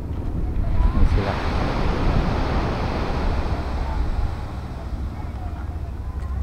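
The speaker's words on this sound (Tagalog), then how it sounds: "Payapa naman yung dagat dito guys." Calm sea waves wash continuously at the shore in Dingalan under steady wind rumbling against the microphone, a dense, even roar throughout with no distinct breaks.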